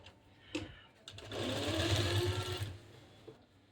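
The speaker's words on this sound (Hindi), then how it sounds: "तो चलिए हम सिलाई स्टार्ट करते हैं" A sewing machine stitches the sweetheart neckline of a suit in one short burst of about a second and a half, whirring close and steady between quiet handling sounds.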